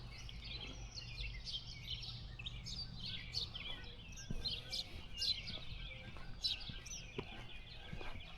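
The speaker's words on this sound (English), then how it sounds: "So there is a lot of birds here. This is kind of like a bird sanctuary." Birds chirp and tweet steadily in a bird sanctuary in Missouri, with many overlapping calls at moderate distance and a soft low rumble beneath. Occasional clucking like fowl mixes in.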